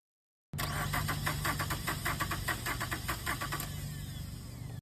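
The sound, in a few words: car engine cranking with the starter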